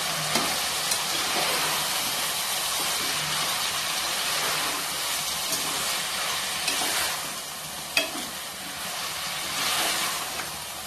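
Ingredients for bottle gourd rice sautéed in a pan with salt, a constant close sizzle broken by a few scraping stirs and one sharp clink.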